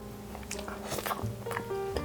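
Biting and chewing into Pipo yogurt jelly, a soft pudding-like jelly, with a few wet, close-up bites and squishy chews spread across two seconds, moderately loud with faint background tones.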